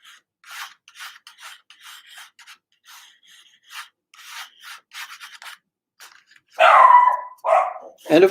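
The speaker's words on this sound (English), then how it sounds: "cue the dog barking." A dog barks loudly and close by in a short burst of several barks, following a stretch of faint intermittent rubbing or scratching noises.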